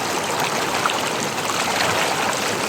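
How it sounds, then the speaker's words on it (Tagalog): Strong river current rushes over rocks at a Bulacan riverside campsite, a loud, steady broadband wash of flowing water that runs unbroken throughout with no voices. "Lakas mga agos dito."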